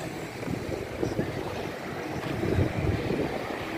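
Sea waves wash steadily along the Marsa Matrouh coast in Egypt as a soft, continuous surf hiss. Wind buffets the microphone and covers much of the water sound, and no voices are heard.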